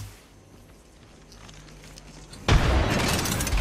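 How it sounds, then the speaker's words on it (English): Frag grenade explosion in the Apex Legends video game: after a few seconds of quiet game ambience, one sudden loud blast bursts in and its broadband roar holds steady to the end. "Frag out!"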